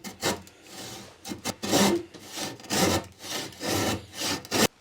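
Hand saw cutting through wood for new sailing-yacht saloon seats, with about ten rhythmic rasping strokes, near and fairly loud, and no talk.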